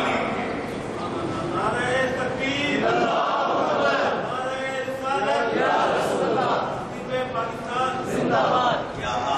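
Large crowd at a religious gathering roaring "Allahu Akbar" in answer to a takbir call, loud chanted voices filling the space continuously.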